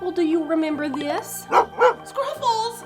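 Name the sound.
cartoon dog barking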